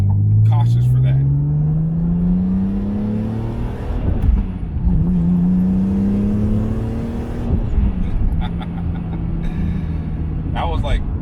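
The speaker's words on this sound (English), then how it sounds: "It's still making some of the same sounds as it did before, you know, the supercharger." Supercharged BMW E46 M3 running on E85 accelerates at partial throttle, with rising engine tones climbing through the gears and a supercharger whine. It is loud and close, and someone talks over it in places.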